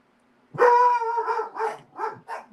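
A dog gives a drawn-out bark followed by a few shorter yelping barks in quick succession, close and clear, with no one talking.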